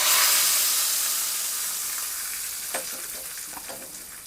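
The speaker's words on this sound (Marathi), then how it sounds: "फोडणी आहे ती आपण या कढीवर घालूया" Hot tempering of red chillies, curry leaves and asafoetida poured onto cucumber kadhi, giving a loud sizzling hiss that slowly fades, with a few soft spoon clinks near the end.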